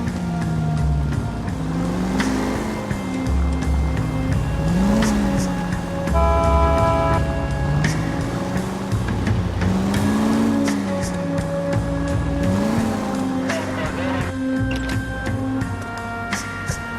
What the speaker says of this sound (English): Now would be a bad time to forget how to drive, Cole.